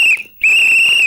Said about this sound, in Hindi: अरे भाई सीटी धीरे से बजाना, मेरे कान पक रहे।